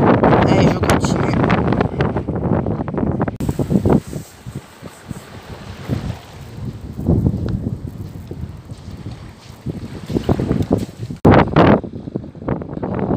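Strong wind buffeting the microphone on Frontignan beach, loud roaring gusts that rise and fall across the whole stretch, with bits of faint talk between them.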